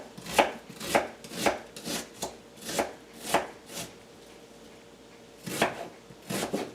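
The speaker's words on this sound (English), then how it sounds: "So we're going to throw all that into a bowl as we chop" Knife chopping vegetables for bruschetta on a board, a run of crisp, evenly spaced thuds near and clear, pausing briefly before two more cuts resume.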